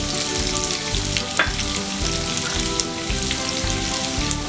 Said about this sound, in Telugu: మంచి ఫ్లేవర్, గీ ఫ్లేవర్ వచ్చేంత వరకు వేయించుకోవాలి